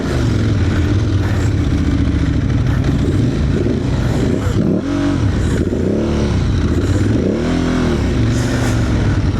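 An Aprilia Tuareg Rally motorcycle on adventure tires riding offroad, its engine droning loud and close with repeated rising and falling revs as the throttle opens and closes, plus rattling over rough ground.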